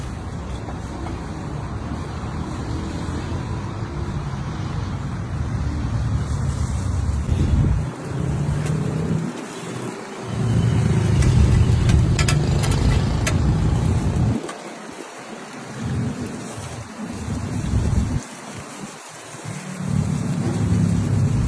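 Strong wind roars and buffets outdoors near a street food stall, a dense, continuous rumbling rush with gusts that swell and ease over time, loud and close with no speech.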